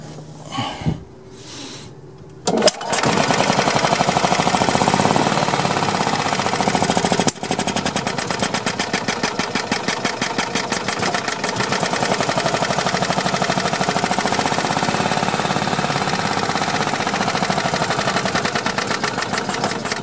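A Yamaha G2 gas golf cart engine runs rough after a brief start, a loud, close, uneven putter with a pulsing, misfiring rhythm that carries on steadily throughout.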